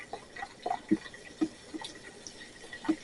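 Ginger ale poured slowly from a 2 liter bottle, a soft continuous liquid trickle with faint fizzing and a few small splashy glugs, close and moderately quiet, with no talking.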